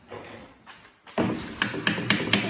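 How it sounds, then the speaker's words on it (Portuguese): A small hammer taps an adjustable wooden jig used with a router for flattening wood slabs and boards. Five or six sharp, close taps come in a quick, fairly even rhythm after some faint rustling. "vou pegar o martelinho aqui"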